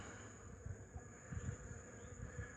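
Soft, steady insect buzzing of honeybees in flight, fairly faint, with low droning pulses coming and going over a quiet outdoor background.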